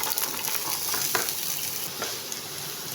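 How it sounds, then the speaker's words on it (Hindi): Mixed vegetables fry in about two tablespoons of oil in a pan, giving a steady, close sizzle with crackling pops and a few louder stirring clatters, no talk over it. "तो इधर मैंने 2 टेबल स्पून के करीब जो है ऑयल ले लिया है। अब मैं इसके अंदर सब्जियाँ शामिल करूँगी सारी"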